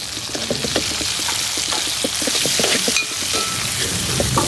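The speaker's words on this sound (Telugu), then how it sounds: "కట్టెలతో మండే రాకెట్ స్టవ్ మీద మేము చికెన్ వండుతున్నాము" Chicken curry with onions, coriander, ginger and turmeric cooks over a wood-fired rocket stove, with a loud, steady frying sizzle broken by bubbling pops, close up and without voices.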